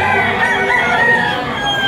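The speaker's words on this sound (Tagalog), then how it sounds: "Ayan mga napakarami pong manok dito." Many chickens at a busy market, with overlapping crowing and clucking from a large crowded flock, loud, close and continuous.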